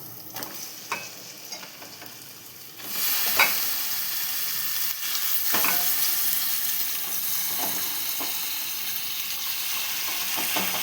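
Chicken pieces sizzle loudly in a hot pan for a curry with turmeric, with occasional scraping stirs of a spoon and a steady frying crackle that jumps up partway through.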